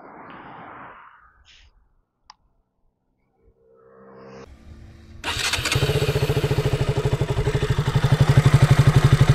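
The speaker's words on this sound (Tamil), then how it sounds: "இதோட எக்ஸாஸ்ட் நோட் இப்போ எப்படி இருக்குன்னு கேட்கலாம்" A five-year-old KTM Duke 200 BS4 motorcycle, after faint fumbling and a single click, fires up abruptly and settles into a loud, close idle with a fast, even thumping exhaust pulse.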